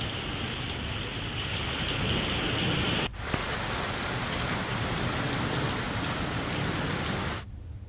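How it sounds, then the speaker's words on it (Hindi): Steady heavy rain pours down on the festival grounds in Manendragarh, a dense continuous downpour with no voices, cut off briefly near the middle and again at the end; no distinct thunder clap stands out. "गरज चमक के साथ बारिश हो रही है"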